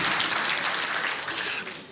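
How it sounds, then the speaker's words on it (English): A conference audience at an annual customs operator event breaks into loud, dense clapping that holds steady, then begins to taper off near the end. "So can I get a better clap here?"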